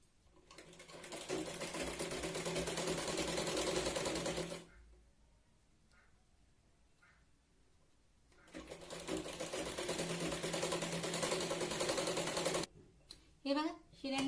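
A sewing machine stitching the lining edge of a katori saree blouse runs in two long steady close bursts of rapid whirring, separated by a quiet pause, with a few short clicks at the end.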